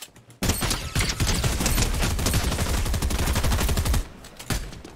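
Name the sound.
gold tactical SMG gunfire in Fortnite video game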